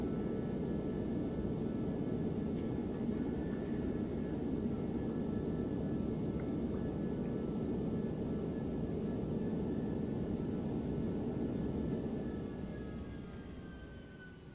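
An Airbus A321 airliner rolling out after landing in a flight simulator, with a steady, loud broadband roar of engines and wind that holds constant before easing off near the end, no voices.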